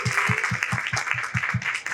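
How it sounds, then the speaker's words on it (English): An audience gives a round of applause at an author interview event, with clapping heard in a clear, rhythmic pattern of about ten evenly spaced claps over steady crowd clapping, at moderate level. "Give a round of applause to Dr."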